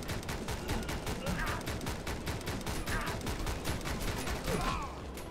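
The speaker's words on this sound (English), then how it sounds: "those things on top are shooting at me, can't slow down" Rapid gunfire pelts the player's vehicle in the Speed Limit game, a steady fast rattle of shots running loud and unbroken from start to finish.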